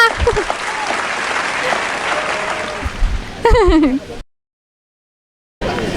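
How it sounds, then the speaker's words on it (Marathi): Studio audience at a quiz game show bursts into applause for a correct answer: dense clapping for about three seconds, then a wavering tonal sweep before a sudden drop to silence and a short return of noise. "टाळ्या"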